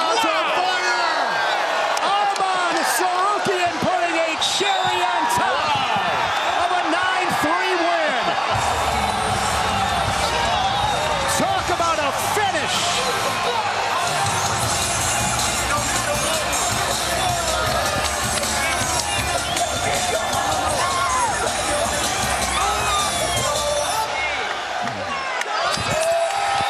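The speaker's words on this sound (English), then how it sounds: "Yeah, the crowd's on fire." A wrestling crowd cheers and roars loudly and continuously through the fight, and commentary runs over it the whole way.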